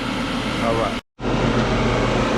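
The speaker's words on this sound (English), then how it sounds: "the unit won't turn off even when you turn the thermostat off" Steady mechanical hum of a Lennox air conditioning unit running close by, one that won't turn off with the thermostat off, broken by a brief cut of silence midway, with faint talk mixed in.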